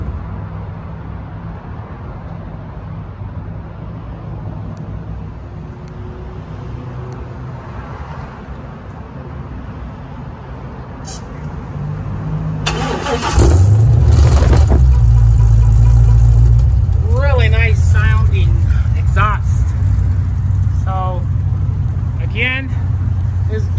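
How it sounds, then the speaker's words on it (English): A Chevrolet Nova SS with an LS V8 swap fires up after a quiet stretch, and the exhaust settles into a loud, steady, rumbling idle that stays close and continuous to the end. "show you what it sounds like when it's being turned on."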